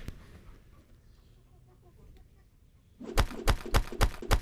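Backyard chickens, hens kept around a compost heap, cluck softly at first, then a burst of sharp, close, repeated pecks or clucks follows in quick succession near the end.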